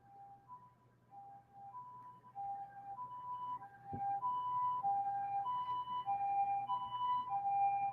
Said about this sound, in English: you'll get a chance as an ambulance goes by my house.